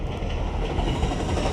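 A train rumbles past near a coastal camp at an island ghost town, a loud, steady low roar with faint rail clatter and no pauses.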